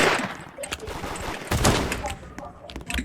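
Video game gunfire in a Der Hood raid: rapid clustered shots and bursts crackling in quick succession, fairly loud and close, with some faint talk in the background.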